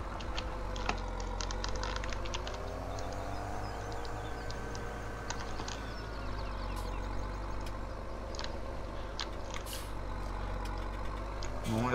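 A tractor engine in Farming Simulator 17 drones steadily in the game, its low hum constant throughout, with sharp clicks of computer keys tapping over it and no speech.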